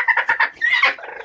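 A small native hen clucks in a quick run of short, close calls, several bursts in a little over a second with no talk.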